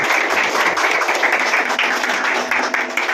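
Dense applause fills a hall from a seated audience at a crowdfunding business meeting, steady and loud throughout with no voices over it.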